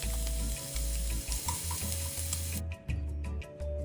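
Minced garlic and sliced meat sizzle in a hot wok, a steady crackling fry with bursts of spatula stirring, close and alone without talk.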